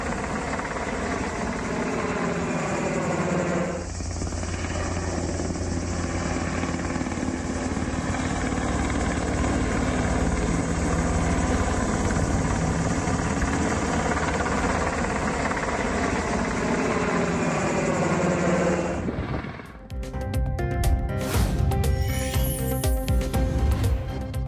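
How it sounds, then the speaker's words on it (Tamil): Loud, continuous roar of helicopters fighting a wildfire, rotor and engine steady and close for most of the clip before giving way to a different, choppier noise at the end. "ஹெலிகாப்டர்கள் மூலம் தீயை அணைக்கும் பணி தீவிரம்"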